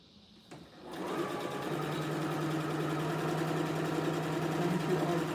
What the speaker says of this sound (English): I'm sewing a tote today.